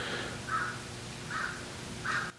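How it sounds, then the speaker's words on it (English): Crow cawing outdoors, three evenly spaced distant caws heard through a window over a quiet room hum. "Some crow is out there criticizing me."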